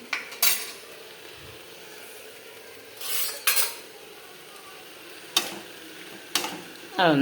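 A spoon clatters and scrapes against a pan while salted tomato, onion and green chili are stirred, with several distinct metallic knocks spaced apart over a quiet background sizzle.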